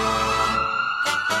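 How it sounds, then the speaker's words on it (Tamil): An ambulance siren wails loudly and steadily as the vehicle pushes through a crowd at a political rally, its sustained tone cutting off and returning in short bursts. "கொஞ்சம் ஆம்புலன்ஸ் வழி விடுங்கப்பா."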